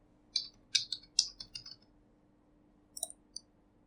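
Someone types an email and password on a computer keyboard: a quick burst of light, crisp key clicks, a pause, then a few more taps, quiet and close.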